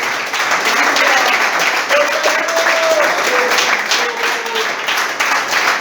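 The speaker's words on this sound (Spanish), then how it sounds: "Aplauda al que vive en esta noche." A congregation applauds in church during a Spanish-language evening worship service, a dense, steady wash of clapping that fills the whole stretch at a loud, even level, with a faint voice or tone threading through the middle.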